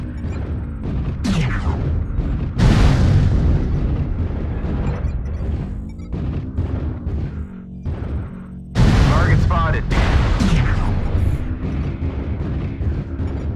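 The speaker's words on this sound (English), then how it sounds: "Artillery strike activated." Artillery strike in a video game: a series of heavy, booming explosions hitting in clusters, with two especially loud blasts followed by rumbling debris and decaying echoes.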